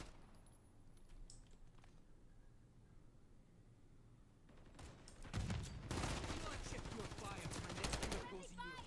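Bursts of gunfire in the video game Call of Duty: Modern Warfare III, a dense, rattling fusillade of rapid shots that starts midway and continues loudly to the end, preceded by quieter game ambience.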